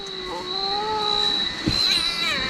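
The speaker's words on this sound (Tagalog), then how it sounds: "May pusa ba sa loob?" A cat meowing inside a cave, giving drawn-out wavering cries, fairly close, over a thin steady high whine and low rumbling background.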